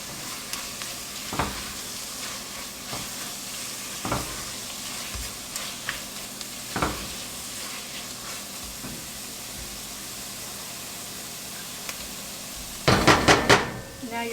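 Sweet potato beef stew seasoned with salt and pepper cooks in a pot, a low frying sizzle with scattered light stirring clicks and a louder burst of clattering utensil against pot near the end.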